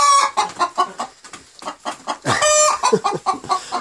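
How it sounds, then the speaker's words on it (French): A hen in a barn clucks and complains in a rapid run of loud, close squawks and clucks, with a brief rising call partway through. "On a une poule qui se plaint."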